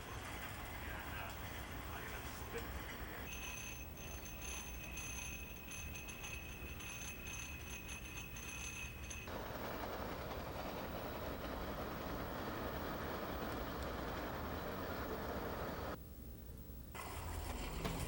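An American Orient Express passenger train rolls along a rail line on its run from Williams to the Grand Canyon, with a steady rumble and track noise throughout and a faint high whine partway through.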